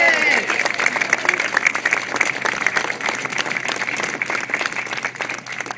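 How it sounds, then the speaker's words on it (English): Audience applause at an art event, a dense wash of many hands clapping, loud and sustained, with a voice briefly audible at the start. "Let's give a round of applause to Victoria"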